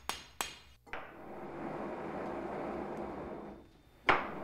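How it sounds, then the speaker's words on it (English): Hammer blows in blade forging: a few sharp metallic strikes at the start, then a long broadband rushing roar, likely a forge or grinder, ending with one more bright metallic hit. "Literally tens of thousands of hammer blows have to be right."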